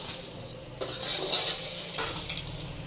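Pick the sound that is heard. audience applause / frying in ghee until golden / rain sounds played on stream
frying in ghee until golden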